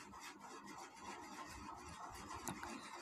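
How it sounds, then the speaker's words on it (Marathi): Warm peanut chikki mixture being rolled thin with a rolling pin, a steady dry rubbing and scraping that runs continuously at close range with no voices. "हे बघा, हे आता आपलं चिक्कीचं मिश्रण असं लाटत आहे।"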